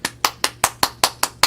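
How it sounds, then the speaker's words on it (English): Hands clapping, eight sharp claps in a steady quick rhythm, close and loud, with no talk over them. "That was my clap."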